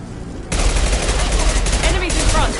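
Rapid automatic gunfire from the video game Mass Effect 2 breaks out abruptly after a brief quiet moment and continues as a loud, dense barrage, with faint voices mixed in.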